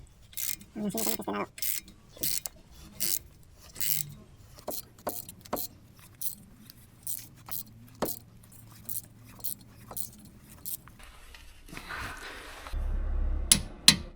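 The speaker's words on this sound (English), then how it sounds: "I have to tighten it bit by bit on each side, so it will get evenly in its place." Suspension bolts being tightened bit by bit on a Mini Cooper S R53, with close ratcheting clicks and short metallic mechanism bursts in uneven spurts, separated by brief pauses and ending in a low thump.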